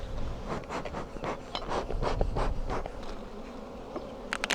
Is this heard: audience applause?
no